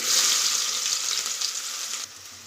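Onions hitting hot oil with fennel seeds give a loud, bright, hissing sizzle that stays strong and then drops sharply to a quieter fry near the end, with no voices.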